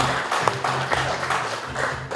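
Guests at a Korean novel's book launch give a short round of applause, a moderate patter of clapping hands that swells and thins unevenly over a couple of seconds, with low room hum underneath.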